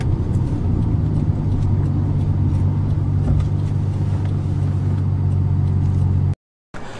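A Nissan Skyline GTR R33 engine revs smoothly and steadily, a loud, deep, continuous rumble close by with no one talking, cutting off abruptly near the end before resuming briefly.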